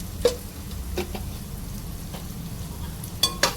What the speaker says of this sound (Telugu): ఇది కూడా కొద్దిసేపు ఫ్రై చేసుకున్నాం అల్లం వెల్లుల్లి పేస్ట్ కూడా వేగిపోయింది